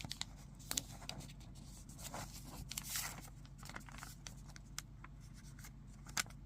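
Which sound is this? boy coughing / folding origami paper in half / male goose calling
folding origami paper in half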